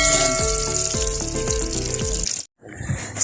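Eggplant and salted milkfish fry in a pan with a loud, steady sizzle and crackle, broken by a few stirring clunks, then a brief drop to near silence before the sizzling returns more faintly.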